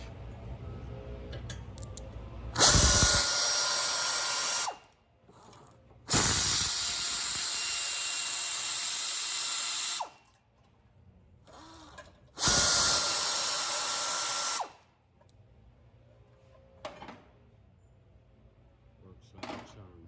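An impact gun removes bolts from the rear brakes of a 2019 Honda Accord, firing three loud, sustained bursts of about two seconds each, separated by quieter shop noise and small clicks.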